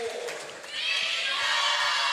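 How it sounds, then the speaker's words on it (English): A swim and dive meet crowd swells into loud, sustained yelling and cheering in an echoing pool hall after a brief quieter moment. "And the crowd yells bingo"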